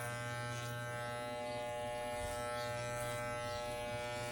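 Electric hair clippers hum steadily while cutting a boy's hair at home, a close, constant buzzing drone with a few small shifts in pitch as the blades move through the hair, and no talking.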